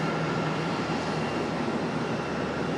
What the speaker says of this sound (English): That 737 again coming in from Pittsburgh, Pennsylvania, American Airlines 384.